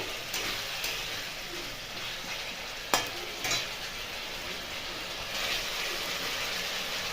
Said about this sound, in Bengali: ভেজে রাখা আলু দিয়ে দিলাম। আলুটা দিয়ে ভালো করে কষে নেব।